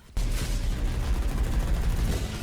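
Heavy gunfire from the Astartes II Warhammer 40K trailer erupts after a brief quiet start, a dense continuous barrage of booming shots with no voices.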